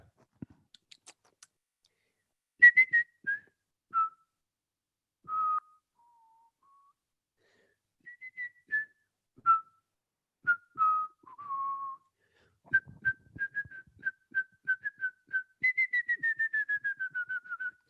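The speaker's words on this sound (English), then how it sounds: "I'm going to whistle it." Someone whistles a melody alone, slow sustained notes and short phrases, ending in a quick run of repeated descending notes; quiet and close.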